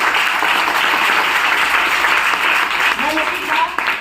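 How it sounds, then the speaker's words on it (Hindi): Audience applause at a mindset training seminar, a steady dense wash of clapping from a crowd that holds through the whole stretch, with faint voices showing through near the end. "एक बार जोरदार तालियां सकते"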